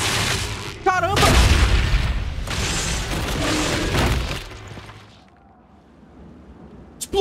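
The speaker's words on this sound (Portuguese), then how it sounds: "Explodiu o Corypheus, acabou o jogo." Corypheus exploding in Dragon Age: Inquisition: a loud, deep rumbling boom with crackling debris that swells and sustains for several seconds before fading to a quiet tail.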